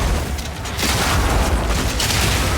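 Dense, continuous booming and crackling from chained secondary explosions in the action game Path of Exile 2, played with a rocket launcher, fill the whole stretch loudly with no breaks and no speech.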